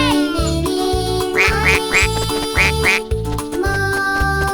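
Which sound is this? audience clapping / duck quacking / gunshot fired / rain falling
duck quacking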